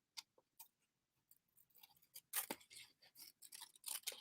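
Scissors snip down the fold of a craft paper sheet to separate two leaves, a run of quick, crisp, faint close cuts that grow busier toward the end.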